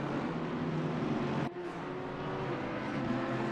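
Porsche race cars roar past in an endurance race at Watkins Glen, a steady dense engine drone from the pack with a brief dip midway before the loud engine noise resumes.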